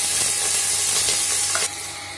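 About ten cut garlic cloves go into a hot pan with slit green chilies, producing a loud, dense, continuous sizzle close up that eases slightly near the end.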